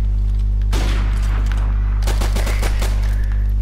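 Rapid bursts of gunfire in Call of Duty MWR, a loud automatic volley breaking out after a short lull and continuing as dense, overlapping shots and reports over a steady low game rumble.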